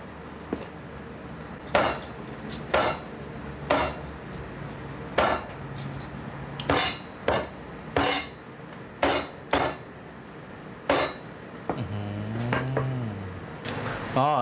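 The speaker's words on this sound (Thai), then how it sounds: "ครับหลังจากเลาะเสร็จแล้วก็เอามาหั่นนะครับ" A knife chops deboned duck meat repeatedly on a cutting board, sharp, irregularly spaced thuds close by, with a brief voice near the end.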